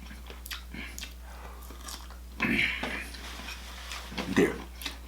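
Crunchy bites and chewing of broccoli from a spicy Cajun seafood boil, a few close, moderately loud crunches around the middle and near the end, over faint background hum.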